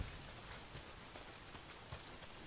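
Heavy, steady rain pouring down in the video game Days Gone, a constant hiss of drops hitting surfaces with no voices over it.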